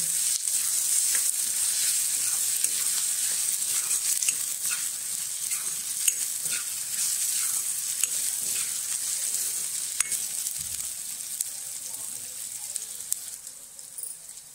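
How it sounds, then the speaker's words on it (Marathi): Finely chopped tomato cooks in a pan with onion, sizzling steadily for the whole stretch, with occasional stirring clicks and scrapes over the hiss; no speech. "आता यात आपण बारीक चिरलेला टोमॅटो घालून घेऊ. टोमॅटो चांगला शिजवून घेऊ."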